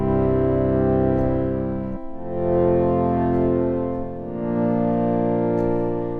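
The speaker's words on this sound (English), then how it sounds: "now you can hear, even after I let go, the sound is still lingering" Korg Prologue 8 synth pad with a long release, sustained chords shifting between notes and continuing to ring after each key is let go, fading gently rather than stopping, alone with no voices.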